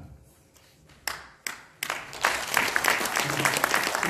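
An audience at a clan association's annual general meeting breaks into applause: a few scattered claps first, then the clapping builds into dense, sustained applause.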